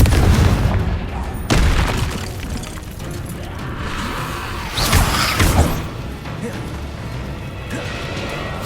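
Confringo explosive spell cast in the video game Hogwarts Legacy, in the Horntail Hall chapter: a heavy booming blast near the start, then a second burst midway, over rumbling game ambience and a shouted spell voice.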